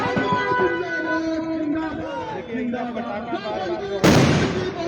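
Firecrackers going off at a busy street procession, a dense run of sharp pops and bursts under crowd noise, with a loud close crackling burst near the end.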